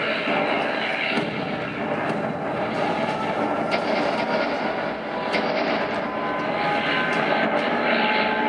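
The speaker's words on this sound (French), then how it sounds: "Les avions tournent dans le ciel lentement." Airplanes circle slowly overhead, a continuous broad engine roar that holds steady throughout with slight swells, heard at a distance.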